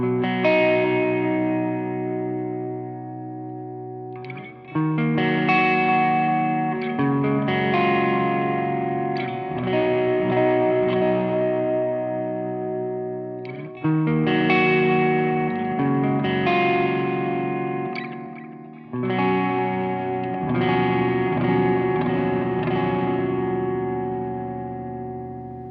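Electric guitar runs through a tweaked effects preset on a Sonicake Matribox II multi-effects unit, with distorted chords and chorus-like shimmer ringing out in several separate phrases, each decaying into reverb and echo tails.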